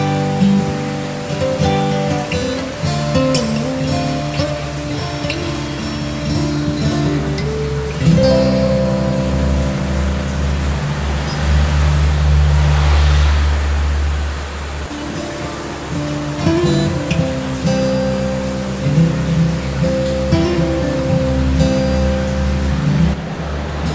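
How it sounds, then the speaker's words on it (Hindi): A waterfall at Mawlynnong in Meghalaya pours in the rain, a loud continuous roar of rushing water filling the whole span, with low rumbling tones running underneath. "मेरे पीछे झरना है, पानी भी अच्छे से बह रहा है।"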